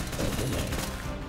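Dense automatic gunfire from heavy weapons in a modded Minecraft game rattles without pause, loud and close, in a rapid stream of overlapping shots.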